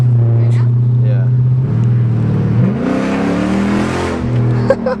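A 500 hp Dodge SRT car pulls away hard from a standstill, its loud engine note rising and swelling as it revs up, with people talking over it throughout.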